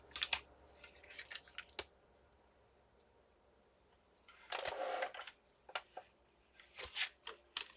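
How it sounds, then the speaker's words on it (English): Scissors cut copy paper in a quiet crafting setting, with several short, sharp snipping bursts separated by near-silent gaps, close and fairly faint. "I'm going to cut that off."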